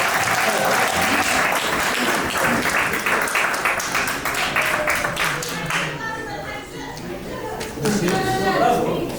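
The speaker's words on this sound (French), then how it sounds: "Il faut l'applaudir." Audience applause at a Mauritanian community annual gala in Canada, a dense wash of many hands clapping steadily throughout, with speech-like voices overlapping it in the second half.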